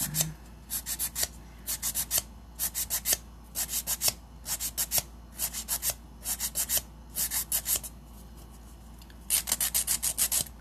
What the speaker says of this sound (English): the first one, I kind of went like this and filed like at a diagonal angle.